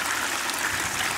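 Water pours slowly over crushed ore while gold washing at a Tanzanian test site, a steady, hissing wash of flowing water that stays even and close throughout with no voices.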